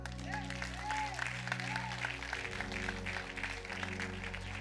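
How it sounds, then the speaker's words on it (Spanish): A church audience applauds during a sermon, continuous clapping spread across the clip over sustained musical keyboard tones, with some vocal sound layered in. "Den un aplauso al Rey"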